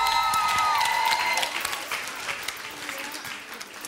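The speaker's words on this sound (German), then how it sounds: "Einen Applaus bitte für Julia!" Audience applause for a contestant named Julia at a children's talent contest, a dense, steady clapping that fills the whole stretch and tapers slightly toward the end, with no voices on top.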